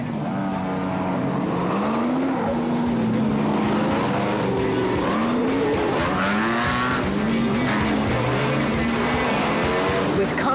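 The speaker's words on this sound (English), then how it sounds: "a gaggle of cars setting off nose to tail" Rally cars at the start of the Human Auto 400 in 2010 rev hard and pull away nose to tail, engines droning and rising in pitch continuously under a commentator's talk.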